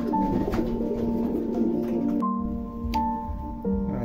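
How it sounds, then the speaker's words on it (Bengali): Madras high-flying pigeons cooing at a fancy pigeon farm in Maslandapur, North 24 Parganas; steady, close coos run throughout over a constant tonal hum. "দুটো গোলা লাইনের ম্যাড্রাস পায়রা আছে, হাই ফ্লাইং আছে"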